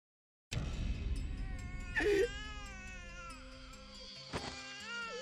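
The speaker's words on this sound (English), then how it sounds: "I heard a strange voice from somewhere, like a cat in heat." Strange voice like a cat in heat from the visual novel game Chaos;Child, a sustained wavering whine with yowling, meow-like rises, loud and close over a soft musical background.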